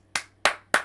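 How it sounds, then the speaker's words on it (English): Three sharp, separate hand claps ring out close and crisp, evenly spaced with short decays between them. "Round of applause for Spy Prob starting a business, getting in there."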